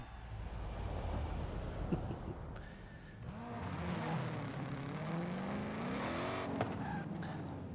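A Mustang racing car engine in Forza Horizon 5 roars steadily, its pitch climbing and dipping as it revs through gears, loud and close with a brief tire screech.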